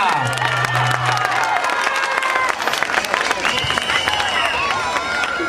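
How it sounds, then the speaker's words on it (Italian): A beach-club crowd at Rosolina Mare applauds and cheers for a dancer, loud clapping mixed with shouts and lively voices, with whistles and a music-like tone running through. "Facciamo un applauso anche per Veronica"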